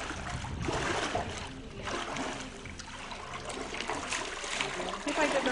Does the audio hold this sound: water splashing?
yes